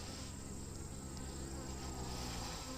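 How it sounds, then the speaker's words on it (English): Honey bees buzz inside an opened beehive during a queen check, a dense, steady drone that holds evenly throughout with no voices. "There's plenty of bees."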